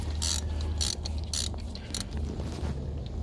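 Ratchet wrench turning a special 16 mm spark plug socket to unbolt plugs on a Land Rover Range Rover, giving several quick bursts of clicking over a low background hum.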